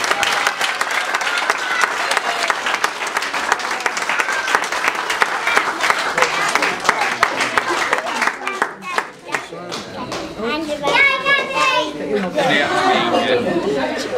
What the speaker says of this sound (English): I'd like you all to give him a big round of applause